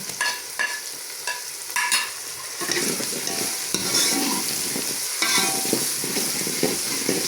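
Potato and pea curry with green chillies is stirred and fried in a pan, with steady sizzling under repeated scraping stirs that grow denser and louder partway through, close up and with no talking.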